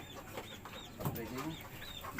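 Serama chickens in a breeding coop built for about fifty birds cluck softly with high thin peeps, a low steady background of quiet farmyard chatter.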